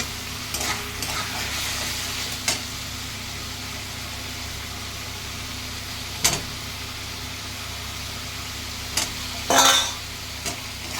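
Cauliflower and potatoes frying in a pan give a low, continuous sizzle, broken by occasional scrapes and clinks of a utensil as they are stirred.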